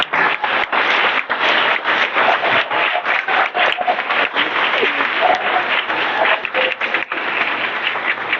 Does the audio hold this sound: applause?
yes